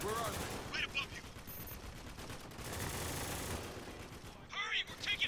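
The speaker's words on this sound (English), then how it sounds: "Hurry, we're taking heavy fire." Heavy video game gunfire from Spec Ops: The Line, with bursts of automatic fire and scattered shots continuing throughout, dense and loud with a brief spoken voice mixed in.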